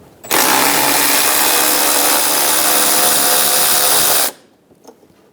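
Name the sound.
socket tool removing fasteners on Toyota Camry washer reservoir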